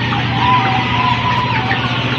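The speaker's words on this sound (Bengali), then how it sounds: "মোরগ বিভিন্ন ধরনের মুরগি সবসময় আমাদের খামারে থাকে" Chickens and roosters cluck and call on a poultry farm raising colour bird breeds, a steady flock murmur with no talking over it.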